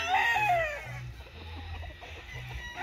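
A fighting rooster at a gamecock breeding yard lets out a loud, close, drawn-out crow, followed by softer clucks and low farmyard murmur.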